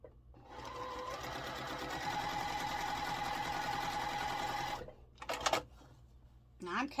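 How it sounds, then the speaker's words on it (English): Sewing machine stitching a quilt block, a rapid steady whirring run for about four seconds, followed by short bursts of stitching with pauses between. "so now I'm going to sew on the other side of the line"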